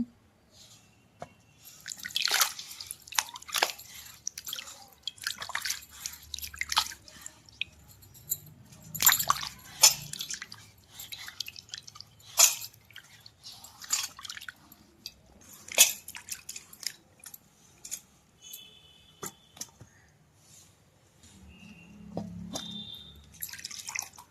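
Peeled snake gourds are rinsed by hand in a bowl of water, giving close, irregular splashes, drips and squishy handling sounds with quiet gaps and no talk.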